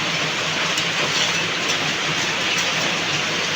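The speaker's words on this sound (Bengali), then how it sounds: "বাইরে হচ্ছে ঝুম বৃষ্টি" Heavy rain pours outside a house in a dense, unbroken hiss that holds steady and fairly loud, with no voices over it.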